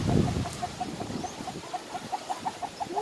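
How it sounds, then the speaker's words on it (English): A chicken clucks in a steady series of short, evenly spaced calls at moderate distance at a small resort, following a brief muffled rustle at the start. "Even a chicken here."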